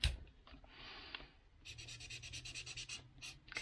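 Colouring with the chisel tip of a marker on paper: faint, close scratchy strokes, a short smooth pass followed by a quicker run of back-and-forth scribbles, quiet with no talk.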